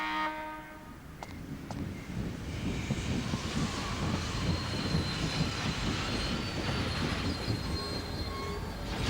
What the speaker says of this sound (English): The Blackstone Railroad's back and ready for action.